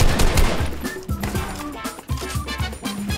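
Rapid bursts of gunfire in the video game Fortnite, with dense overlapping shots and impacts forming a loud, busy stretch of combat sound that continues with no talking.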